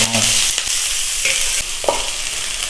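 Steady sizzling of chopped onions frying in hot oil, with a few soft stirring clinks over the continuous hiss.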